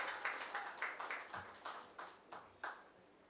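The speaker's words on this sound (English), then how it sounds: "Please welcome Ms. Hitomi Sato with a huge round of applause." Sparse, faint claps from a small audience greeting the Consul General at a Japan country seminar, about eight separate hand claps spaced unevenly with no voices.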